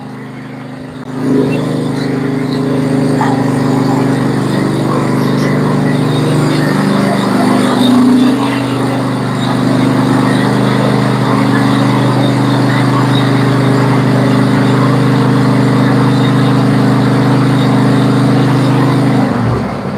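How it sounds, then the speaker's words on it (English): A riding lawnmower's big engine starts up cold and runs with a loud, steady, low drone that wavers slightly as it struggles, close by and mostly alone. "that lawnmower does not like to be cold"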